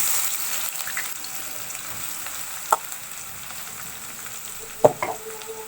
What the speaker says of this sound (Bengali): এখানে আমি কড়াইতে তেল দিয়ে নিয়েছি তারপর পেঁয়াজ দিয়ে দিচ্ছি